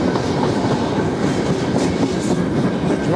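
A very long Trans-Siberian train rolls past on the tracks at close range, its wagons giving a steady, loud rumble with rhythmic clickety-clack of wheels over rail joints throughout, with no voices.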